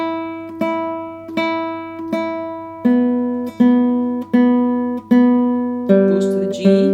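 A guitar exercise is picked with alternating index and middle fingers, clear single notes struck about every 0.7 seconds in a steady rhythm, each ringing and decaying, rising in pitch partway through and alone without talk.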